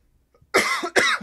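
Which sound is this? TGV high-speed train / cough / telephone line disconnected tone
cough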